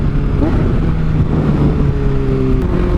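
Honda CBR600RR motorcycle with a Toce exhaust and quickshifter revving and shifting at low RPM, a loud steady engine drone with changing tones close by, no talking.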